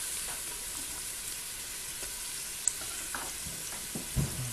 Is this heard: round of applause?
no